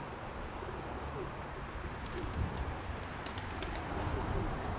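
Pigeon cooing softly at a distance in a loft, low murmuring calls under a steady background hiss, with a few faint higher chirps from other birds.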